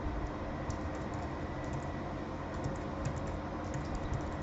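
A folder name is typed on a computer keyboard, a steady run of soft, close key clicks at an even pace under faint room noise, with no talking.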